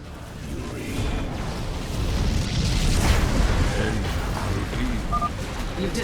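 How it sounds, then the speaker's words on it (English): A cannon being destroyed in StarCraft 2: a sustained, rumbling blast swells and rolls for several seconds, thick with low booming noise and crackling debris, steady and loud throughout. "You've destroyed another cannon"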